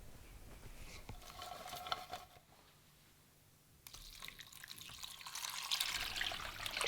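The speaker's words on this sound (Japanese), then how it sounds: "鍋いっぱいに水を入れて塩を入れます" Water from a tap fills a pot of sliced vegetables, herbs and bay leaf for boiling shrimp. A trickle comes in brief bursts, then after a short quiet spell a louder, steady stream runs into the filling pot.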